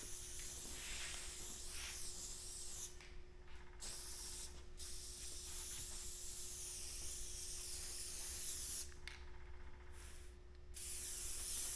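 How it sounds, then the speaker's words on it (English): Long continuous hiss of an aerosol spray can, held steady for several seconds with brief pauses between passes, close and fairly loud. "let's spray her down"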